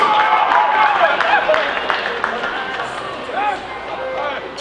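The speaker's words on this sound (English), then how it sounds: "Let's give them a round of applause" Crowd applause for the Porvoon Teurastajat American football team at the Rautamalja 2019 Iron Bowl, sustained clapping from a gathered crowd with voices and cheering mixed in, fading slightly toward the end.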